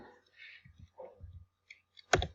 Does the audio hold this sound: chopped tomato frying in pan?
no